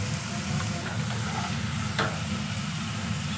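Capsicum and carrot sizzle in a frying pan with a little salt, a steady close crackling hiss with occasional stirring scrapes throughout.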